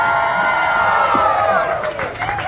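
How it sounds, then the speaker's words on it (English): Wedding guests cheer and applaud at a reception, a dense, sustained crowd roar with clapping and shouts that holds steady throughout. "Please keep your applause going"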